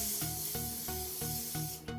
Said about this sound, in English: So I'll spray this one on this side.